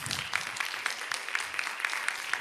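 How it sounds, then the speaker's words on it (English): An audience at a board of education meeting applauds students, a fairly quiet, steady patter of clapping with occasional sharper claps, no voices. "can we have one more round of applause for all of our awesome students?"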